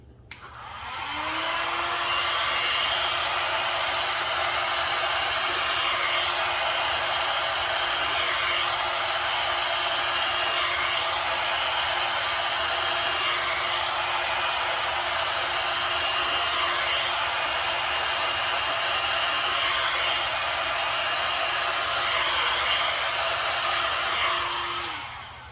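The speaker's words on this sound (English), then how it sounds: "now I'm going to get my hairdryer" A hair dryer blows continuously on a fresh acrylic paint pour, a loud steady whooshing whine that starts up, holds for about twenty seconds, and shuts off, with nothing else heard.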